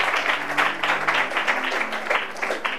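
A church congregation applauding during a Bible teaching service, with steady, dense clapping close by and a faint low murmur of voices beneath.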